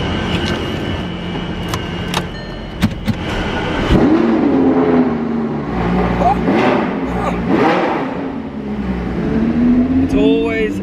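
Supercars rev and accelerate on a London street at night, engine roars rising and falling with sharp blips and a passing whoosh near the end, with traffic noise and some talking nearby.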